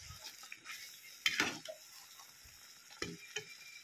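Paneer chunks sizzle gently in a pan while a spoon scrapes and stirs them, giving a steady soft frying hiss with a few sharper clinks of utensil against metal.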